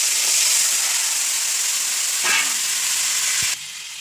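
Fish head and greens frying in a pan, a bright steady sizzle with a brief louder spitting burst midway and a utensil tap, then the frying drops abruptly quieter near the end.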